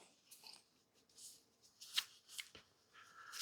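A deck of tarot cards being handled and shuffled up close, with soft riffling bursts and quick flicks and slaps of card edges, fairly quiet, with no talking.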